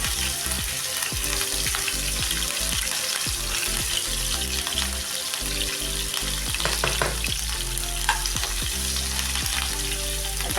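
Mustard seeds and chillies sputter and fry in hot oil, a dense, constant crackling sizzle with sharp pops scattered through it, heard up close.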